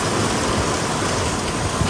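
Heavy rain pours down steadily and loudly, a dense continuous hiss of drops on surfaces with no voices, sustained evenly throughout.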